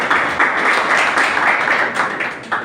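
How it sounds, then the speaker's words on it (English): Crowd at a nursing school presidential debate applauding, steady dense clapping from many people sustained throughout, loud and near with no talk over it. "Please do that again."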